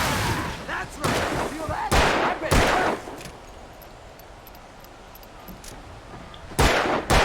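Loud gunshots ring out in the video game Alan Wake, several sharp cracks in quick succession, then a quieter pause before one more shot near the end.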